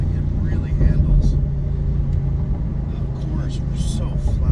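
A 2019 BMW M850i Convertible drives along with a deep, steady engine rumble and road drone throughout, while someone talks over it.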